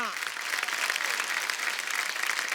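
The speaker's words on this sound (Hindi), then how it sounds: "जोरदार तालियां।" A studio audience applauds at a Hindi comedy talk show, The Kapil Sharma Show, welcoming a guest with a short burst of dense, steady clapping.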